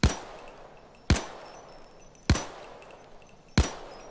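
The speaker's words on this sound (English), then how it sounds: "Let me just shoot single fire." Four single shots from an FN P90 (Kobus 90) in Payday 2, each a sharp, loud crack with a short ringing tail, spaced evenly about a second apart with nothing else heard.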